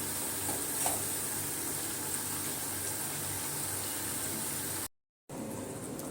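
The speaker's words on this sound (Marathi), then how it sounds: "आता आपण खालीवर करून या भज्या व्यवस्थित तळून घ्यायच्या आहेत." Bhaji fritters fry in hot oil in a kadhai, a close, continuous crackling sizzle that cuts out briefly near the end and then resumes.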